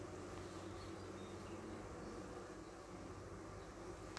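A honeybee colony buzzes inside an open hive frame, a soft, steady drone of many wings, faint and continuous with no voices.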